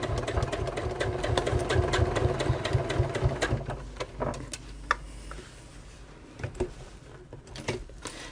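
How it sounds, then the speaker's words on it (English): A sewing machine runs steadily, stitching over the side panel and pockets of a sewn bag, a continuous motor hum with rapid needle ticking that eases off into scattered clicks near the end. "you are sewing slightly over the, not just the creases of the actual side panel, you are actually sewing over the pockets as well"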